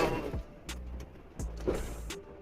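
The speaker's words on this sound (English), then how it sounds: "Sorry about this background noise. I'm in my truck trying to get to the house." Low, steady road rumble fills the cab of a moving truck, with a droning tone and a few brief higher swells passing over it.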